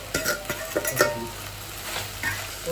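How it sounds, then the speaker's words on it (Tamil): Fried curry leaves stirred into chicken fry in a pan, a brief patch of sizzling with a few quick scraping stirs, close and moderately loud, no talking. "நல்லா கிளறிட்டு வைக்கணும்"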